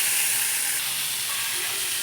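Food sizzles steadily as it is stirred in a kadai, a dense, bright frying hiss that stays even and close throughout with no voices.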